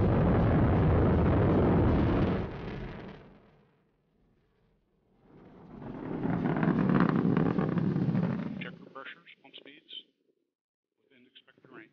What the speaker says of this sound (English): We have RD-180 ignition, and we have liftoff of the United Launch Alliance Atlas V rocket carrying EchoStar 19.